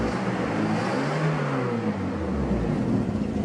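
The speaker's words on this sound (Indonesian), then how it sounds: "Press the gas then step on the high RPM." A car engine is pushed to high RPM, a loud steady roar that rises and falls in pitch over a few seconds and keeps up a continuous drone throughout.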